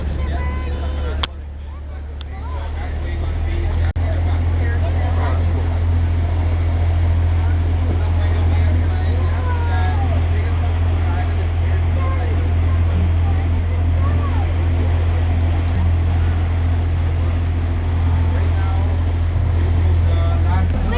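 Aboard a ship at sea, a loud, constant engine rumble and wash of wind and water fill the air for about twenty seconds, with voices talking faintly beneath it.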